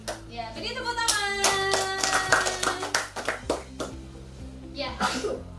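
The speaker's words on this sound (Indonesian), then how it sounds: "Ya, beri tepuk tangan." Pupils in an Indonesian classroom clap for group presentations, a scattered, uneven patter of hands that runs through the whole stretch beneath a teacher's voice and classroom chatter.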